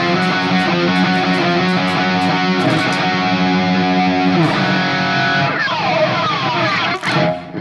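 A heavily distorted electric guitar plays the intro riff of a song, loud and close, with sustained power chords and a squealing slide near the end.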